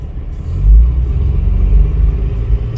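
A loud truck driving just ahead on a road near Marietta, Georgia, heard from inside a following Cadillac ATS-V as a steady, heavy low rumble that swells briefly and stays close and constant throughout.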